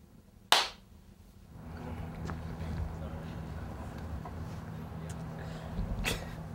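A single sharp hand clap sounds close above a camera on a film set as a sync slate, followed by quiet outdoor background with faint low hum and a voice murmuring later.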